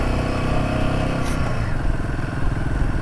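A motorcycle on a Ladakh road trip, engine droning steadily up close with wind rush, then a gear change around midway as the engine note drops and settles into a lower rumble.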